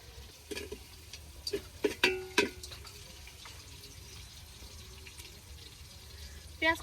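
Lentils are rinsed by hand in water for khichuri, giving a few faint splashes and sloshes, some trickling drips, and a final swirl of water, all soft and close.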